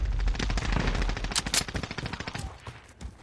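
Rapid automatic gunfire in a Call of Duty video game, loud bursts of closely spaced shots that thin into separate cracks toward the end.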